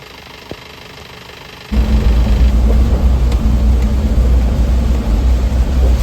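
A vehicle engine idling on a rainy road in Nepal, kicking in abruptly after a quieter opening and then holding a loud, steady low rumble for the rest of the stretch.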